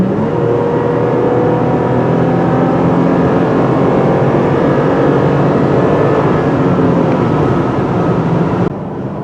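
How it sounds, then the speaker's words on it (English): A 2020 Toyota Tacoma TRD Pro's exhaust drones loudly and steadily while driving, a constant low hum that holds for several seconds before easing slightly at the end. "the droning of the exhaust. I don't know if you can hear it on the microphone, but it just drones and drones and drones."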